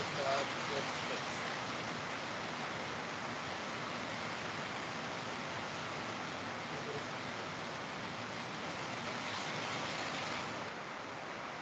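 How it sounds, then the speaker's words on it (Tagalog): Heavy rain pours steadily as a dense, even hiss for the whole stretch, fairly faint and continuous with no clear breaks. "Medyo malakas na ulan."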